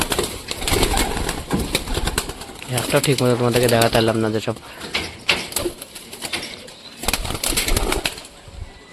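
Domestic pigeons released from their pen take off, wings flapping in several sharp, close bursts while someone talks throughout.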